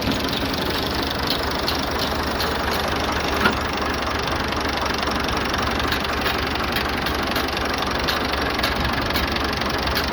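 Ford 3610 tractor diesel engine running at idle, a steady low chugging rumble with a faint knocking rhythm, close and constant, one small bump partway through.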